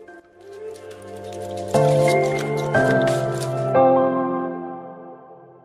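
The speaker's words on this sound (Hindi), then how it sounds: "कितना मस्त लग रहा है वो कीचड़ में छप छप छप छप छप" Wet squelching and splashing in soft mud, a few loud squishy steps in a row with a drippy, sloppy texture, heard up close, near a waterfall.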